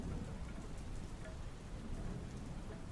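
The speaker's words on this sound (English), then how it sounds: "Can you hear the rain quite nicely?" Steady rain falls on a surface with occasional low thunder rumbling beneath, a dense continuous wash of drops with no voices, close and even throughout.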